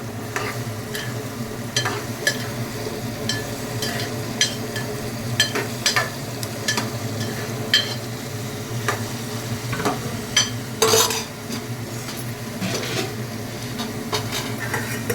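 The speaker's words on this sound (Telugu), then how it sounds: "వేసిన తర్వాత మనం దాన్ని తిప్పాలి. అవి కూడా వేగాలి కాబట్టి మనం వేయించాలి." Bottle gourd pieces stirred and frying in a pan for curry, a constant soft sizzle under repeated sharp scrapes and clinks of a spoon against the pan, irregular and close, with one louder clatter near the end.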